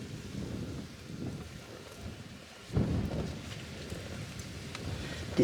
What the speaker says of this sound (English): Decided to get windy out here, so wind's blowing pretty strong.